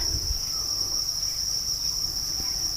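Crickets on a cricket farm at evening feeding time, a dense, continuous high chirping chorus, loud and steady throughout with faint low rustling underneath.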